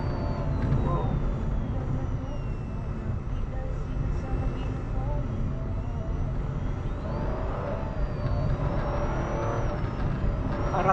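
A car engine revs with a throaty, Toyota Supra-like tone, its rising and falling whine running steadily beneath ongoing conversation.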